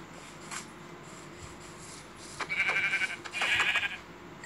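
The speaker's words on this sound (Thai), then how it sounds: "ไปเจอแกะ" Sheep bleat in Minecraft Pocket Edition, two short wavering bleats standing out over a quiet background hiss with faint rubbing noises.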